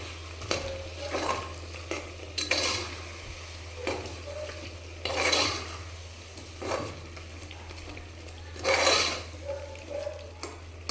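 Chicken coated in masala paste fries in a pan for biryani, a steady low sizzle broken by repeated bursts of stirring and scraping, close and alone with no talk.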